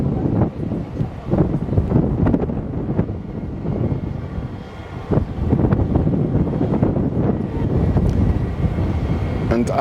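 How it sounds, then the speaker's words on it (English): Gusty outdoor wind buffets the microphone beside the Monument in London, rumbling and surging unevenly with low roaring bursts while a voice talks underneath. "it's very windy today"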